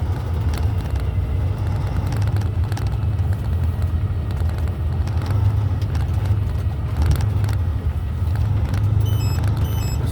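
A Kenworth dump truck engine rumbles steadily from inside the cab while driven with floating gears and no clutch, a deep continuous low drone with faint rattles and clicks over it.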